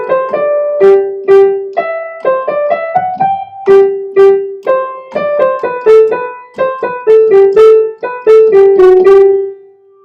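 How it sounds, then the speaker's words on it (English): A minuet A section played on a piano keyboard, a clear sequence of separate notes in a steady moderate rhythm, loud and close, with no talking. "when you hit play, it should sound like this."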